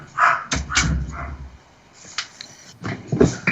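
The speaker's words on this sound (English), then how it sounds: "Your dogs, I can barely hear you." Several dogs bark in a few loud, sharp bursts close by, with quieter gaps and scattered yips between them.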